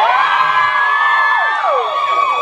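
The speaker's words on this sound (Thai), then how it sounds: "แฟนคลับเต้กรี๊ดให้ตัวเองหน่อยนะครับ" A fan club screaming and cheering at an event at a department store, a loud sustained chorus of high shrieks and whoops from a crowd, continuous throughout with rising and falling pitches.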